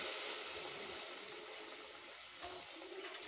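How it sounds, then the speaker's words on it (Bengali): Boiled lentils poured into a pan of fried spices for murighonto, a soft steady wet splashing and sloshing, faint and continuous with no talk. "এবার আমি ডাল দিয়ে দেবো"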